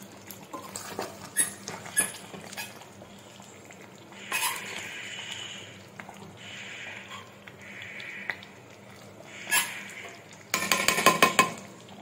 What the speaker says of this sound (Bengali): দিয়ে আমি ভালো করে এটাকে একটু নাড়িয়ে দেব।